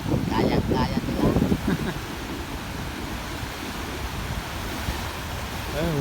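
Large ocean waves after a typhoon, a steady broadband surf wash with wind noise on the microphone, with people talking loudly over it at the start.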